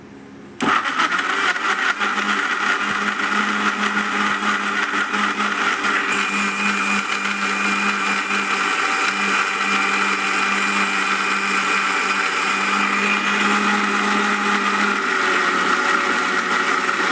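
A blender grinds tomato chutney made with three tomatoes, running loud and steady for the whole stretch after a brief start, with no talk over it.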